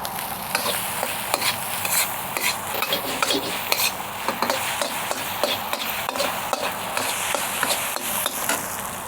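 Rice stir-fries in a hot pan for takeout-style chicken fried rice: loud, continuous close sizzling with constant scraping and clinking of a spatula tossing the grains.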